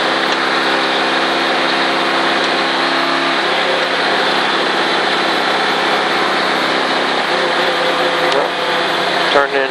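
A race car engine pulls hard in fourth gear on a track, its loud, rising mechanical howl shifting pitch partway through as the car accelerates, with a voice heard faintly over the noise.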